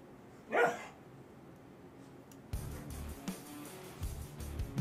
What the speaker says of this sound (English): my dog's wanting to get my attention